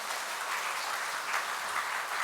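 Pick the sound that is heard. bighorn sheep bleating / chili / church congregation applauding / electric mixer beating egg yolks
church congregation applauding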